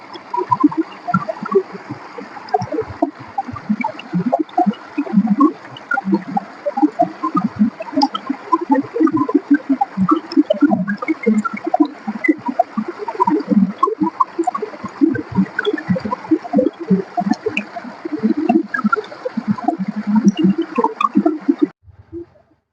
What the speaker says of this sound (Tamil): குட்டி அருவி. ஒரு 30 செகண்ட்ஸ் நேச்சர் சவுண்ட் அப்படியே போடுவேன், என்ஜாய் பண்ணுங்க